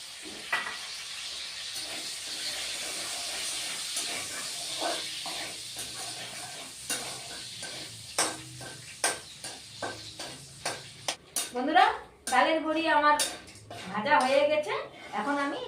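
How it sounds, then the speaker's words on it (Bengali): Lentil dumplings frying in a pan, with a hissing sizzle and spoon clinks and scrapes against the pan, while a person talks over the latter half. "এর মধ্যে আমি ডালের বড়ি কটা দিয়েছি ধুয়ে এখন ভেজে নেব"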